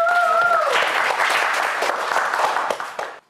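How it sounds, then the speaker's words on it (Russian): A studio audience on a quiz show breaks into applause right after a short electronic tone, a dense burst of clapping that holds briefly and then fades out. "И студия аплодирует."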